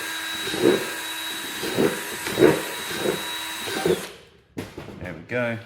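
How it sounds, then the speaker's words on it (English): A power drill fitted with a 5mm bit bores a series of holes through the bottom of a plastic bucket, giving about five short whirring bursts at a steady pace, followed by brief handling noise. "Flip her over and then drill a bunch of them on the bottom."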